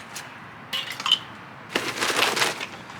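Charcoal briquettes pour into a Weber kettle grill as a dry, clinking rattle in two short bursts, the second longer and louder, close by with no talk.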